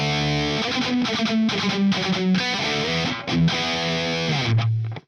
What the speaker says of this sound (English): if we just kick in the Puppet Master EQ, it just scoops out a little bit of those mid frequencies